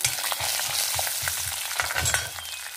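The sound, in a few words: mustard seeds, cashews and curry leaves frying in oil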